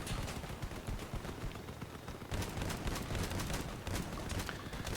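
Rapid gunfire in the vehicle combat game Crossout, dense continuous bursts of shots crackling steadily throughout, loud and busy with no pauses.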